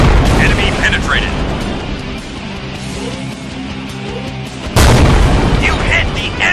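A loud, deep boom of a tank shell striking an enemy ammo bay in a tank battle game featuring the Su 100 P, bursting suddenly over steady engine rumble after a stretch of voice lines.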